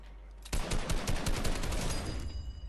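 Rapid bursts of automatic gunfire erupt in a video game firefight, loud and close, rattling on continuously after a quiet start with no talk.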